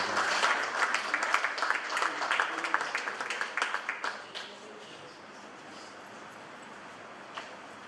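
Applause for the head of a polytechnic at an international academic conference, a burst of moderate clapping from the audience that dies away after about four seconds, leaving a quiet hall with one stray clap.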